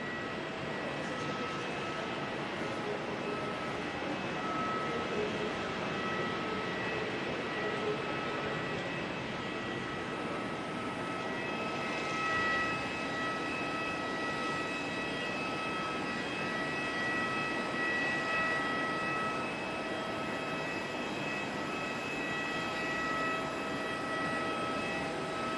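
An Airbus A321neo airliner landing at Auckland Airport in gusty conditions, a sustained distant jet engine roar with whining tones that swells and holds steady.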